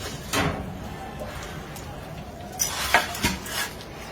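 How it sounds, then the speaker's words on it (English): A metal baking pan holding glazed salmon is pulled from an oven, giving a few sharp clanks and scrapes of metal against the rack, close and clear over a quiet kitchen background. "I'm going to take the fish out of the oven."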